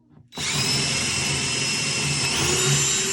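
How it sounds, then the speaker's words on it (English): A power drill bores all the way through a wooden overlay drawer front for the pull hardware, starting abruptly and whining steadily at close range for about three seconds with no talk. "drill that all the way through"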